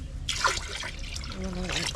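Water trickles and splashes into a drum of rotting vegetables and molasses on a small farm, a steady close pour with a voice briefly heard over it.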